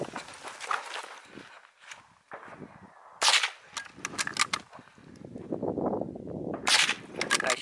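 Shots at a friendly outdoor shooting competition with two guns and a bow: a few sharp, loud cracks stand out against rustling and footsteps, with a clear report near the middle and another toward the end.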